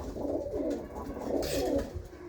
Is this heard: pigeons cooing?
yes